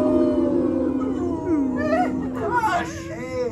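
A crowd imitates an echolocation call, long wavering hoots and rising squeals, overlapping from several people as the sound builds and breaks up.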